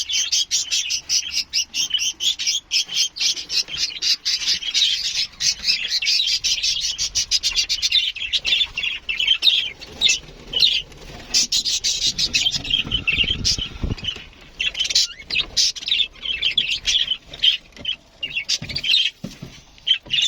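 Pet budgerigars chirp continuously in a dense, busy chatter of rapid tweets across the whole stretch, fairly loud and close, with no talking.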